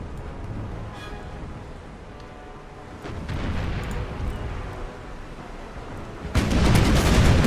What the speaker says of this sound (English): getting a few point-blank shots in